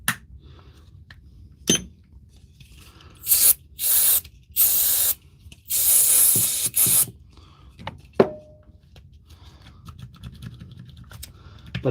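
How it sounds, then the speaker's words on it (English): Brake cleaner sprayed in several sharp hissing bursts of varying length, some short and one longer blast, close and loud, separated by quiet gaps with small clicks and handling noises. "Bit of brake cleaner, as you know."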